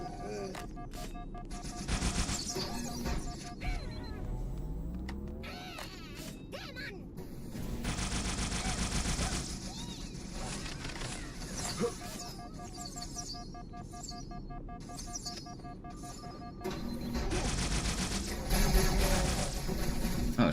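Rapid needler fire from an alien weapon in a sci-fi shooter battle, bursts of crackling shots and impacts, fairly close, with game noise and occasional speech underneath.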